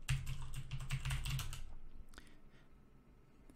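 Rapid close-up keystrokes on a computer keyboard as a terminal command is typed in Ubuntu GNOME, a quick burst of clicks for about a second and a half followed by a few scattered taps, with no talking.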